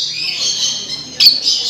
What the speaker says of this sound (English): The lorry parakeet exhibits allows visitors to get up close and personal with these birds